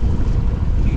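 Strong wind roars across a sailboat at anchor near a lee shore in New Zealand's Marlborough Sounds, a loud, steady buffeting rush of about 20 knots that fills the mic.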